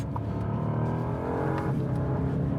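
A 2026 Bentley Flying Spur plug-in hybrid accelerates hard, a steady, strong engine drone rising in pitch from inside the cabin, continuous and unbroken with no one talking.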